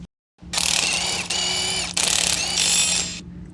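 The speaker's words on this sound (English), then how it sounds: "use your 21mm deep socket to remove the U-bolt nuts" A ratchet wrench with a 21mm deep socket backing off U-bolt nuts on a 2014 Ford F150, three loud rapid clicking bursts separated by brief pauses, close and with no talk.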